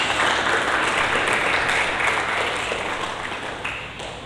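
A church congregation applauds together in a sustained round of clapping that fills the room at steady volume, thinning slightly toward the end.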